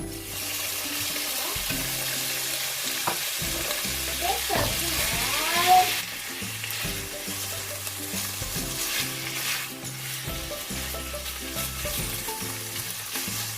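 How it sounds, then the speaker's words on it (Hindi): Chicken pieces sautéing in a pan over a medium flame give a steady, close sizzle, with scraping and stirring clatter that comes and goes and some water splashing near the middle. "इसके अंदर मैं चिकन ऐड कर दूंगी।"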